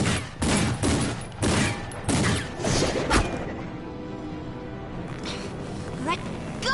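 Gunfire in the video game Batman: The Enemy Within, several loud sharp blasts in quick succession followed by quieter game sounds and a voice speaking.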